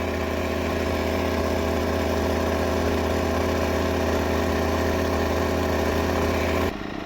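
Champion Dual Fuel inverter generator, a 2200 W gas-and-petrol unit, running steadily under a 2 kW load, a constant close drone with a low hum that holds level and cuts off abruptly near the end, no voices.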